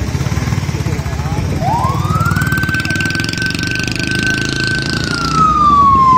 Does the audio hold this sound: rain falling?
no